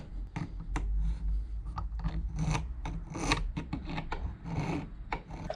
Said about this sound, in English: At this point in time I only had needle files,